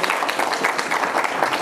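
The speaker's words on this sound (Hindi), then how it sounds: "तपाईँहरू सबैले मलाई ताली बजाएर अभिनन्दन" An audience at a 2017 Nepali novel launch in Kathmandu applauds, dense, steady clapping filling the hall throughout.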